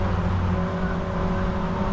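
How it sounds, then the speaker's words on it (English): Caterham Academy race cars lapping a circuit at Goodwood, a steady loud engine drone with layered whirring tones, close and continuous without a clear pass-by. "these Caterham Academy cars out at the back of the circuit"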